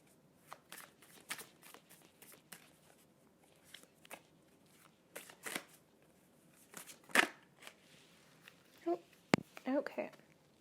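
A deck of tarot cards is shuffled close by in a quiet room, a string of soft riffling flicks and taps at irregular intervals, with a voice talking at times.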